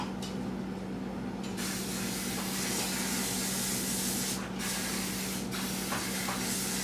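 Cooking spray hisses steadily from a can onto a 2-quart baking dish in a home kitchen, a close continuous spray with a few brief pauses.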